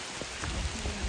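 Rain pours steadily on a hidden forest route through rural countryside, a dense, even hiss of drops on surfaces close by with no voices.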